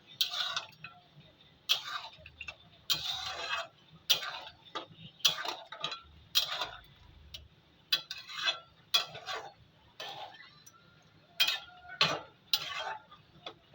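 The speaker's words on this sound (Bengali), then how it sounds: "এবার একবার নেড়ে দেবো।" Duck meat curry stirred in a pot, a series of sharp, close spoon-against-metal scrapes and clanks in irregular bursts, with quieter pauses between strokes.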